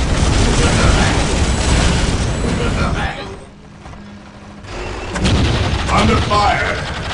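Heavy battlefield gunfire and artillery blasts in Warhammer 40,000: Dawn of War, loud continuous volleys that drop briefly to a lull before resuming, with voices heard amid the combat.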